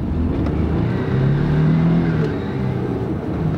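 An old four-wheel-drive Toyota truck accelerates from a standing start down a small drag strip, its engine droning steadily and loudly from close by and rising slightly in pitch before easing off toward the end.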